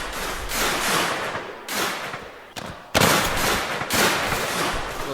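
Gunfire in the Mount & Blade Warband Civil War mod: loud, dense volleys of musket and rifle fire roll almost continuously, with one brief lull before a sharp fresh burst, and no talking.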